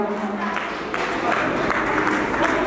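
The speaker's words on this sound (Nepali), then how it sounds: "प्रदार तालिका साथ उहाँहरूलाई स्वागत गरौँ" An audience applauds guests welcomed onto a stage at an event, with a dense patter of clapping that grows slightly stronger toward the end, mixed with voices.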